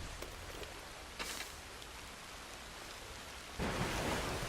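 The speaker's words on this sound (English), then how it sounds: "Oh look, it's raining." Steady rain pours in Red Dead Redemption II, a continuous hiss with a distant rumble of thunder; a louder gust of downpour swells near the end, with no voices over it.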